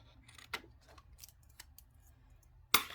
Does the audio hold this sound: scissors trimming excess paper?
yes